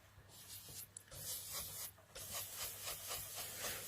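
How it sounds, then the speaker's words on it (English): Colour being rubbed onto paper in swirling strokes for a sea-themed piece, a soft, steady papery rasp with repeated rhythmic strokes, close and fairly quiet. "we're just going to keep rubbing it on there like so"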